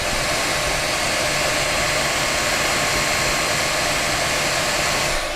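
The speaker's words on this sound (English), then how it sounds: "there is quite a bit of fan noise, and that's coming from all around, including the bottom" Steady, close whir of cooling fans on a Creality Ender 3 V2 3D printer while it prints, a constant broadband airy hiss with no pauses or stepper motor sounds.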